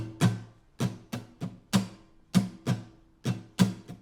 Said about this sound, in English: the pattern that I feel goes best with the song is a syncopated strumming pattern